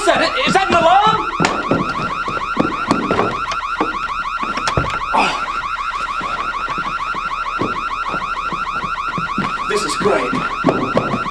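A car alarm blares continuously and loudly, a steady cycling electronic wail with repeating tones that runs the whole stretch, while a voice speaks briefly near the start.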